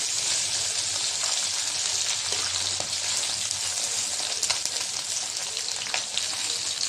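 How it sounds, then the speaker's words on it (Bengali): Shing fish and egg frying together in oil in a wok, a loud, continuous close sizzle with crackling spatters and no talk. "মাছটা তুলে নিব, ভাজা হয়ে গেছে।"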